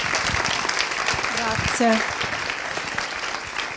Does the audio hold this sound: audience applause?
yes